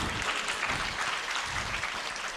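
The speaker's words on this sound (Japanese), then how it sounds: "そんなことで拍手をいただきました。" Audience applause at a Japanese lecture hall talk, steady dense clapping from a crowd filling the whole stretch at an even, moderately loud level with no voices over it.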